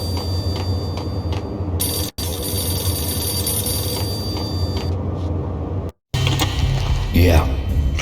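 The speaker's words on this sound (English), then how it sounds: "The payphone started to ring." Payphone ringing in the Max Payne video game, a repeated electronic ring over a dense game soundscape with brief dropouts and a voice speaking.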